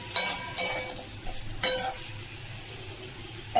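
Vegetables with papaya and lentils are stir-fried in a pan with a steady sizzle, while a spoon scrapes and clatters against the pan in a few sharp, close strokes. No one speaks.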